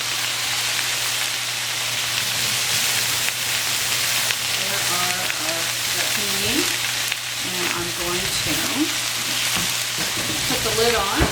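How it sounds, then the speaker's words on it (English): Rapini sizzles and steams steadily in a hot pan, a loud continuous crackling fry throughout, with a person talking over it in the second half. "we've let it saute, steam a little bit."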